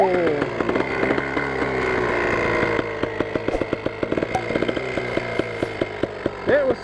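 A KTM trials motorbike engine runs with the choke still on, a loud buzzing two-stroke drone with rapid revving blips and uneven pulses, close by, while someone speaks briefly over it.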